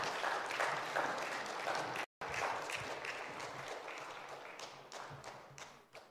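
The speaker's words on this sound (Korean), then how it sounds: "귀한 특송해 주신 권사님들께 다시 한번 큰 박수 부탁드리겠습니다" A church congregation claps after a special song sung by deaconesses at a Sunday afternoon praise service, steady dense applause across the room that gradually thins toward the end, broken by one brief gap.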